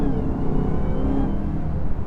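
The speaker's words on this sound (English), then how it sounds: "I'm slowing down here to 30 miles per hour and I've laid to the throttle, start spinning" A 2020 Dodge Charger SRT Hellcat Widebody accelerating hard from about 30 mph with its tires spinning: a loud, steady engine roar fills the whole two seconds with no talking.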